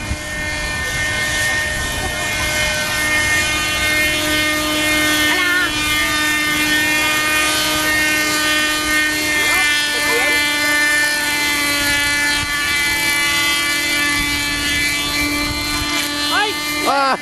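An RC helicopter at Virac Port, Catanduanes, hovering and setting down with a steady, loud rotor and motor drone throughout, broken by brief whining pitch sweeps as it maneuvers; people chat nearby.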